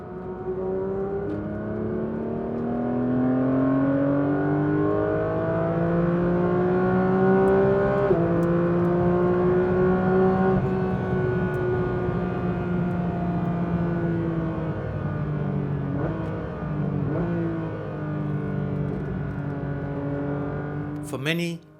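A Porsche 911 GT3's naturally aspirated 4-litre flat-six engine drones and climbs through gears at steady speed, a smooth rising and falling tone heard from inside the car throughout, ending with a brief sharp sweep.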